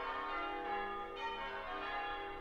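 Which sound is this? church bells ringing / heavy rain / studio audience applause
church bells ringing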